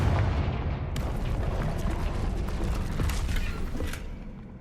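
Blasting spell striking and breaking a magical barrier in the Hogwarts Legacy video game: a loud, sustained roar of rumbling, crackling debris with scattered sharp snaps, steady throughout and easing off at the end, with no talking.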